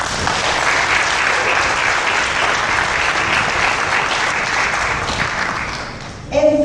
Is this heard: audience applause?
yes